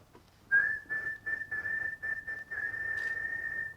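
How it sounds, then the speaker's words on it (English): Someone whistles a Tamil film song live at an award event, starting with a sharp note and then carrying a clear melody in short phrases before ending on a long sustained tone, with no talking. "I'm going to whistle a song."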